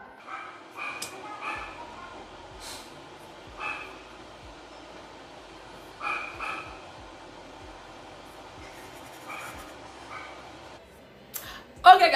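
A dog barks in short bursts spread across the stretch, moderately loud above a low, steady background, with a sharper noise right at the end.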